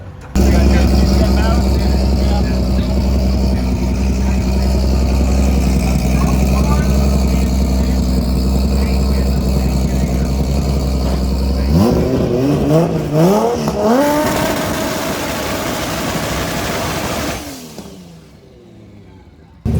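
A race car engine sits at a steady, loud idle with a drone for several seconds, then revs up and down in quick rising and falling bursts before cutting off, recorded close with no audible talk.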